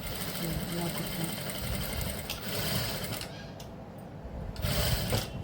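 A sewing machine stitches a net onto a ready-made blouse, a steady close mechanical whirring chatter running throughout at moderate volume, with brief pauses and a voice speaking over it.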